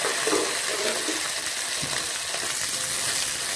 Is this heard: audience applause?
no